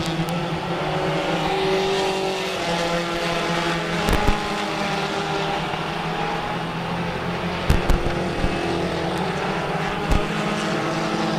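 Race cars running laps at Merrittville Speedway, a continuous loud engine roar with shifting tones as cars pass, punctuated by a few sharp bursts and pops, with no voices over it.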